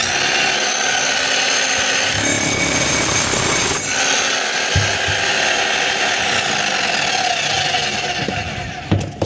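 A DeWalt D25901 10 kg jackhammer running after a repair with a new field coil, armature and o-ring, a loud continuous hammering roar close by with a brief dip partway through.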